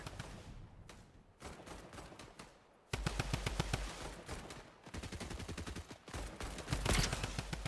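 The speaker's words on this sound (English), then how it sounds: "So as you can see, they're all shooting" Rapid automatic gunfire from several players in a Fortnite match rattles almost continuously, loud bursts overlapping one another with short pauses between volleys.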